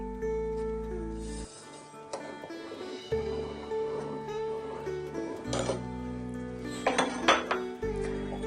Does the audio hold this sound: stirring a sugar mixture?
yes